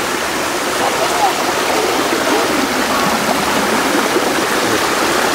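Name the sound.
waterfall and flowing stream water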